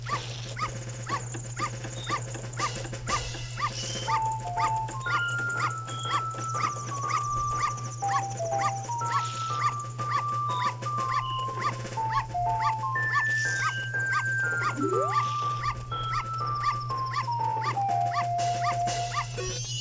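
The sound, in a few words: dog barking in Zelda: Majora's Mask video game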